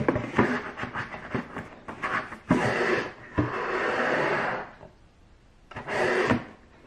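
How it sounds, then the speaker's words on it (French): A cardboard drawer slides out of a 2023 Oh My Cream advent calendar box, giving brief scraping and rubbing sounds with soft knocks, close and fairly quiet. "Effectivement ça s'enlève, ça fait un tiroir."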